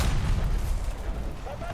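Heavy cannon fire from an anti-aircraft vehicle in War Thunder, a deep booming blast with rumbling low end that lingers through the clip, fairly loud and continuous, with no clear voice over it.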